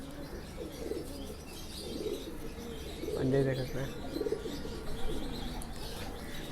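Cooing from Kale chapdar pigeons runs continuously at close range, a low rolling murmur under a man's brief speech, with a short louder burst midway.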